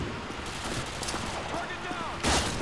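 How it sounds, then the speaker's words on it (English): Gunfire crackles in Modern Warfare 2 multiplayer, rapid muffled shots under game noise, rather faint overall with a louder burst near the end. "they're shooting at me"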